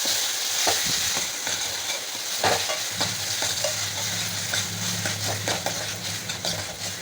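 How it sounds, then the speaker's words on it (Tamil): Chopped tomatoes sautéing into a gravy for a vegetarian liver-style curry, with a steady sizzle and the repeated scrape and clack of a spatula stirring in the pan; no voices. "கட் பண்ண தக்காளியை சேர்த்து நல்லா கிரேவியாக வதக்கிக்கலாம்."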